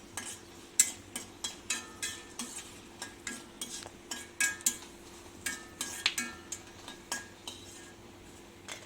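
Metal spoon scraping and clinking against a pan while dried red chillies and tamarind are roasted, a regular series of sharp stirring knocks over a faint steady hum.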